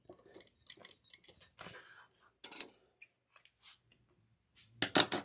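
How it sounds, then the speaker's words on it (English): Scissors snip threads while a zipper is sewn, with several small crisp cuts and metallic clicks scattered across quiet pauses, ending in a louder cluster of sharp snips. "I'm going to trim these threads."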